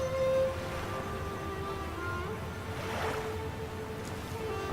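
Rushing water from a waterfall in the video game Two Worlds 2 gives a steady, broad roar that holds at an even level, with faint tonal music underneath.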